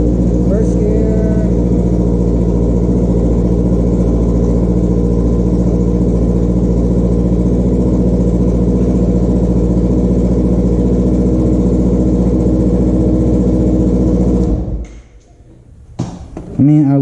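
A motorcycle engine idles loud and close inside a garage, running as a steady unbroken rumble, then cuts out near the end, leaving a few brief knocks.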